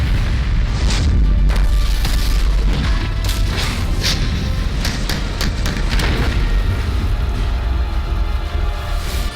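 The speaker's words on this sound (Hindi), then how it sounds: "इजराइल ने हमास पर फिर किए ताबड़तोड़ हवाई हमले।" Israeli airstrikes on Hamas produce heavy, continuous rumbling booms, loud and close-sounding, with several sharper blasts clustered toward the middle and no voices.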